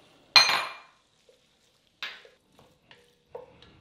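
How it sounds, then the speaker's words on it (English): Garlic dropped into a pot for crawfish and shrimp Cajun etouffee, a sharp clattering burst followed by a few softer clinks and taps of metal utensils against cookware, close and without talk. "I'm going to go ahead and drop the garlic,"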